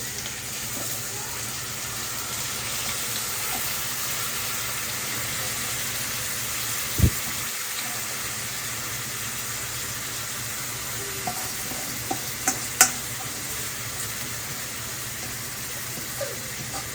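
Gobindobhog rice tipped into a frying pan for khichuri and stirred, a steady hissing sizzle broken by one dull thud and a few light clinks of the spoon later on.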